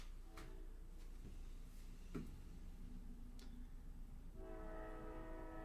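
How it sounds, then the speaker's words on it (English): A passing train is heard faintly, with a few light ticks and knocks before a distant, sustained train horn swells up toward the end over a quiet room hum. "here comes that train that I absolutely love"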